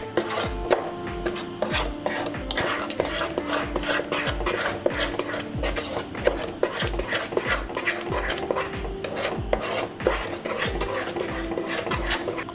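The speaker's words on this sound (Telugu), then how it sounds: "దీన్ని కూడా ఉండలు లేకుండా మొత్తం అంతా కలిపేసుకోవాలి." Sooji halwa mixture of semolina and sugar being stirred in a pot, a steady scraping and rubbing of the spoon against the pan with repeated soft knocks, close and continuous, with no talk.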